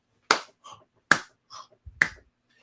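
Three sharp hand claps spaced about 0.8 seconds apart, mimicking a punk singer clapping at a concert, each followed by a brief softer trailing sound, close and alone with no talk.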